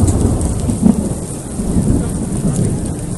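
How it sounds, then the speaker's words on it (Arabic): Heavy rain with small hailstones pours down in Makkah near Masjid Al Haram, a dense steady roar of drops hitting surfaces with a low rumbling undertone, loud and continuous throughout. "برد برد حبات برد صغيرة."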